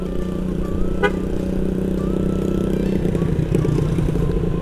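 A motorcycle ridden on a road trip from Gorontalo city gives a steady, loud engine drone with wind rush, a brief tonal horn-like blip early on, and rougher rumble later.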